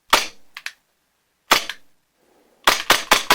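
A CO2-powered dry fire training barrel fitted in a live-fire pistol gives sharp, close, isolated pops, first singly with pauses, then a quick string of several at the end, over silence.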